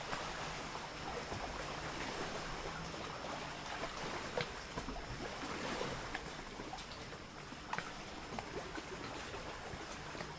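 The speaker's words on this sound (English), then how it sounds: "We've got the sound of waves today, so maybe you'll tune in to the sound of the waves." Ocean waves wash and roll in a steady, broad hiss, with occasional soft splashes and faint breeze, no voices.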